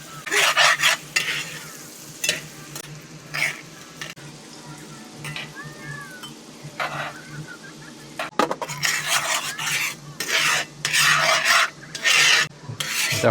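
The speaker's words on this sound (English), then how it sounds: "Just scrape up everything on the bottom" Butter and steak seasoning scraped across the bottom of a pan in a van kitchen, with bursts of gritty rasping strokes over a low sizzle, some quiet stretches between, close-up and without talk.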